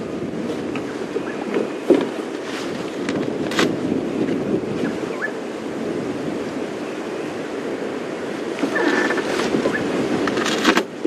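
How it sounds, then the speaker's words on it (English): Strong gusting wind buffets the microphone on a safari drive, a loud rumbling roar that swells and eases throughout, with a few faint knocks and brief distant background sounds. "Can see how strong the wind is today, gusting around"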